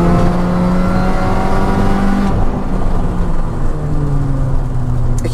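A Mini Cooper S R53 engine accelerates loudly up close, its pitch climbing, then a shift drops the tone before it rises again, with no talking.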